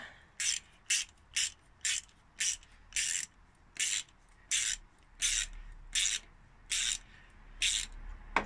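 A ratchet tightens a fuel filter fitting on a Peugeot 205, giving about fourteen evenly spaced, close, crisp rasping clicks with short pauses between strokes and no talk.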